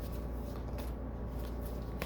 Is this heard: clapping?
no